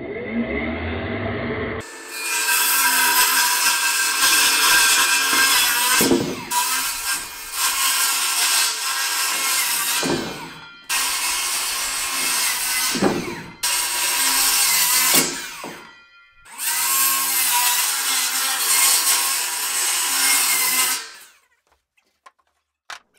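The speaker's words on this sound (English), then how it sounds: "We just cut all of the rafters that are going to overhang the east side." Wooden roof rafters for an I-joist roof frame are cut with a loud power saw, four long whining cuts in a row separated by short pauses, with no talk.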